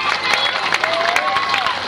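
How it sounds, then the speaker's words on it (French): An audience at a children's school blues concert in Oraison claps in a brief, dense burst of applause with scattered cheering. "vous pouvez applaudir la section rythmique, les chaînes debout"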